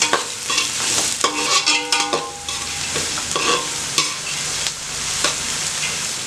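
Mint leaves sauté in hot oil for mutton pulao, a loud, close sizzle with quick scraping stirs and a few ringing metallic knocks of the spatula against the pot early on, then steady frying.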